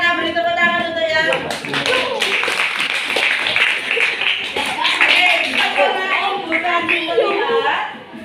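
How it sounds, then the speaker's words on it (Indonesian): Schoolchildren clap together in a classroom lesson, a brisk burst of many small hands that swells and continues with rhythmic patter, while a teacher and children's voices talk over it and some chuckle. "Oke, terima kasih anak-anak. Beri tepuk tangan"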